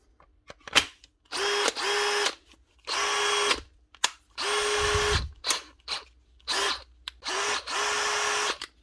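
A Dewalt DCD778 cordless drill runs after a repair to its stripped, slipping gearbox. It whirs in about ten on-off bursts, some brief and some about a second long, separated by short quiet gaps, close up and with no talking.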